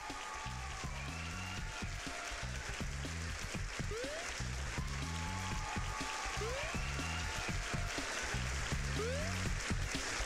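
Crowd cheering and applause in a cheap pool-table video game, a steady broadband roar running throughout with repeating game music and occasional rising whistle-like effects over it.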